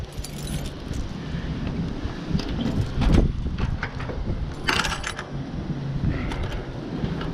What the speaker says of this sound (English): The key to the ignition is the one that opens up the trunk.